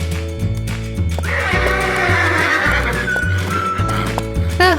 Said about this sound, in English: The Tennessee Walker Stallion.